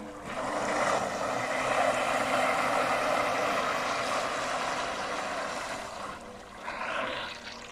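A Chinese AliExpress radio-controlled bait boat runs on water, its motor giving a continuous whirring drone with a slight change in pitch near the end.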